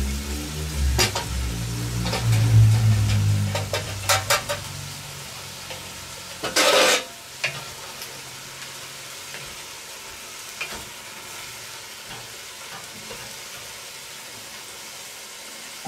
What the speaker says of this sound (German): Dann unser Fleisch und unsere Gurken wieder rein.